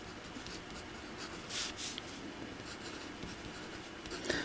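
A pen scratches across paper in short, quiet strokes, close by and faint, with a few brief pauses between strokes and no talking.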